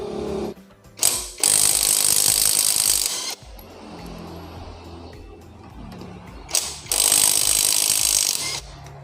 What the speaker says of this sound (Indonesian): kita coba apakah benar kekuatan impact ZLD ini sangat kuat ya